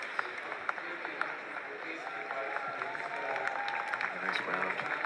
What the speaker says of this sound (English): A nice round of applause from the fans here in Milton.